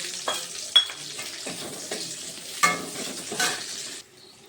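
Sliced onions frying in a pan for restaurant-style chilli paneer, giving a soft steady sizzle with several scraping stirs of a spatula, no talking, before the frying hiss drops away near the end.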